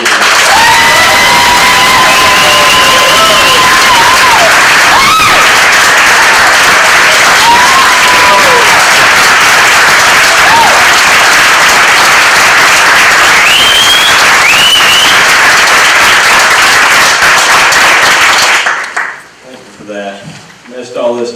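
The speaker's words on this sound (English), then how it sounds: "I'd like everyone to join me in a round of applause for the members of Lake City's Fire Department that are present here." A crowd at a Lake City fire department meeting applauds members of the fire department in the room, with sustained clapping and some whistles and cheers for about eighteen seconds before it cuts off abruptly.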